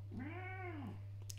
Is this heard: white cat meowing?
yes